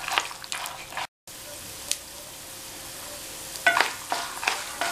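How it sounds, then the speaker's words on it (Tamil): Urad dal and peanuts roasting in oil in a pan, a continuous soft sizzle with scattered crackles and stirring scrapes, interrupted by a brief dropout. "உளுந்து செவரட்டும்."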